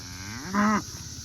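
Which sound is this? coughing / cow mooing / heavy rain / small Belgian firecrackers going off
cow mooing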